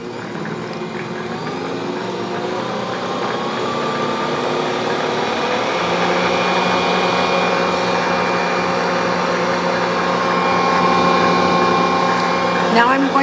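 An electric stand mixer creams ghee and Crisco together for a brown sugar pound cake, a steady motor whir that rises slightly in pitch and holds on for the whole stretch, close and fairly loud.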